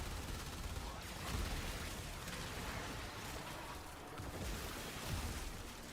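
Rapid, continuous weapon fire in the video game Warframe rattles on in a dense, unbroken barrage, fairly faint overall, with brief swells as bursts overlap.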